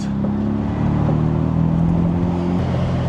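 A Mazda RX-7 rotary engine revs hard on a public road, a loud, steady, buzzing drone with a slight rise in pitch, close and continuous throughout.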